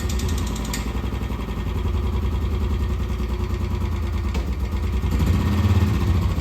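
A motorcycle engine runs steadily up close at the start of an early-morning ride, a continuous low throbbing rumble with no talking over it.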